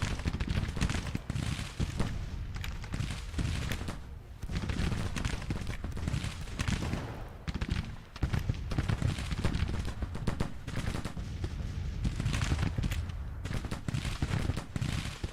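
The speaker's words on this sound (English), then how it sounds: "The Union artillery trying to slow us down." Union artillery and musket fire crackle and thud through a Civil War battle at Gettysburg in the Grand Tactician strategy game, a dense continuous barrage of overlapping distant shots.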